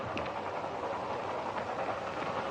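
A train rumbles steadily around a bend, a continuous low, rolling roar with faint rail clatter, moderately loud and unbroken, with no talk over it.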